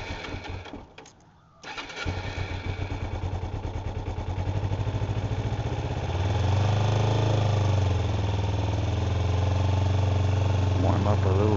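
A 2007 Kawasaki Ninja 250 starts after a brief crank and settles into a steady, rapid idle while warming up with the choke on, the note rising slightly, loud and close.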